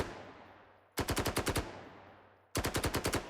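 Automatic-weapon fire in an FPS multiplayer template game, heard as two loud, close bursts of about seven rapid shots each, separated by a decaying tail and near-silence.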